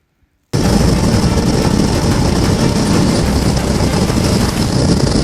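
Train playing from a video clip, a loud continuous rumbling roar of rail cars and engine that starts abruptly after a brief silence and holds steady throughout, with no talk over it.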